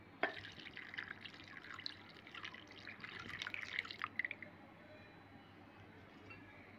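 Milk poured into a mango and sago pearl dessert, a thin trickle with light drips and faint clinks against the bowl, quiet and close, tapering off after a few seconds.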